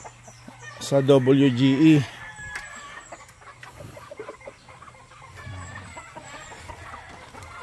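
Chickens, young Boston Black pullets, cluck and call loudly in a short burst near the start, then quieter scattered clucks and farmyard noise continue faintly beneath a voice speaking.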